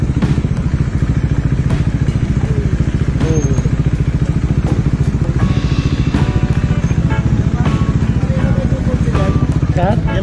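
A motorcycle exhaust drones loud and close, the engine revving steadily throughout with rattling clatter, while people talk over it.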